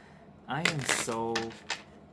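Tarot cards are shuffled in a quick riffle, a short burst of soft papery flutters and snaps lasting about a second, with a voice talking over it.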